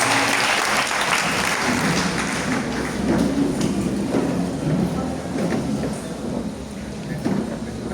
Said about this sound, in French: Tu peux acclamer le Seigneur et la chose.